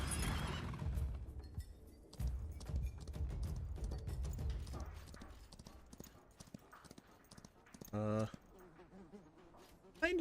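A horse in a video game whinnies and clip-clops, with steady hoof beats running under chatter and a sharp neigh near the end.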